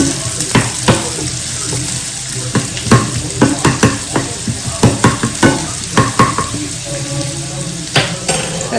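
Chopped onion sizzles in a pan, with a steady frying hiss and repeated sharp scraping knocks from a spoon stirring against the pan, close and loud.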